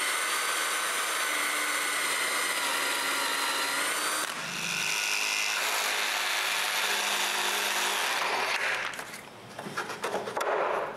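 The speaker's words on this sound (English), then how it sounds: "I mark and drill the holes for the 2 front electrical boxes" A power drill bores holes for two front electrical boxes in a wooden shelf. It whines steadily, pauses briefly, then runs again and ends in rougher bursts. No one speaks.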